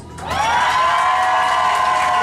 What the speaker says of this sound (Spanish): el aplauso lo que va por el número 2